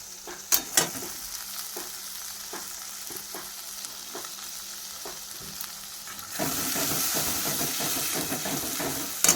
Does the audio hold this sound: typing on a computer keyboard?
no